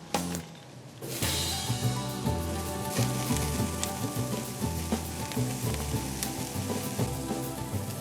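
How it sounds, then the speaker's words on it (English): Grilled vegetables with serrano chilies, garlic, oil, salt and pepper sizzle loudly and steadily on a grill, a dense crackling hiss that kicks in after a quiet first second and continues without talk. "Let's get them on the grill."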